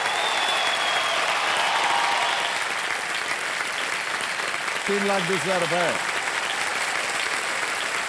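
Studio audience applause on the quiz show Kaun Banega Crorepati after a contestant wins a prize: steady, loud, dense clapping that fills the whole stretch, with a voice briefly speaking over it near the end.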